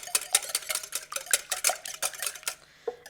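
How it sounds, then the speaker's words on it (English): Wet ingredients for a red velvet bundt cake whisked briskly in a bowl, a quick run of close, bright clinking taps of the whisk against the sides that stops just before the end, with no talk. "And just give those a little whisk."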